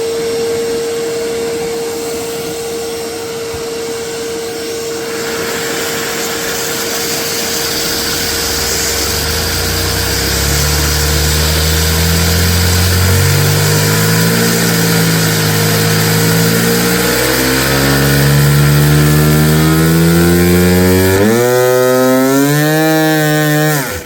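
Homemade vacuum-powered engine revving up to very high speed, a loud continuous whine and buzzing roar that climbs steadily in pitch, surging and wavering toward the end, with no talk over it.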